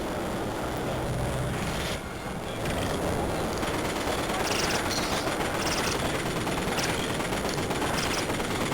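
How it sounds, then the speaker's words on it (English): Trains in the LEGO Batman Nintendo DS video game, a loud dense continuous rumble and rattle with a brief dip, steady throughout with no talking. "I stopped getting hit by trains."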